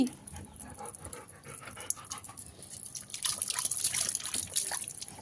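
A dog laps up spilled water on a rooftop, the soft drinking and wet trickling sounds mixed with quick panting breaths, close and fairly quiet throughout.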